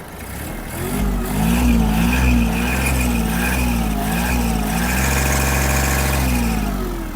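A Kubota GL-201 generator's engine revs up from idle and holds a loud, steady mid-pitched drone close by, with no talking.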